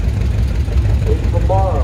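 A 1948 Farmall Cub tractor engine runs steadily at a low, even idle throughout, with a brief voice rising above it near the end.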